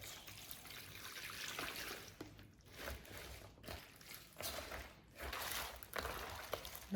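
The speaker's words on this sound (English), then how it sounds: "And pour the salted water on the cabbage." A soft, steady pour of salted water onto cabbage for kimchi, with gentle gurgling fluctuations, fairly quiet and close, no talking.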